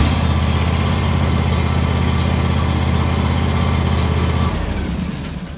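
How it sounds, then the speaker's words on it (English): A John Deere X350 lawn tractor engine runs loud and steady with a low, even thrum for several seconds, then the sound changes and eases off near the end, with no talking. "You should just be able to crank it over and it should start right up."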